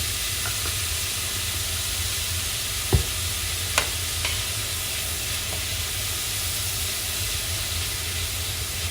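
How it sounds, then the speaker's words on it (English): Green peppers and onions with a seasoning mix sauté steadily in a pan, a soft continuous sizzle with a few faint utensil clicks, close and alone without talk. "you're going to go ahead and saute those for just a few minutes until they soften up just a little bit"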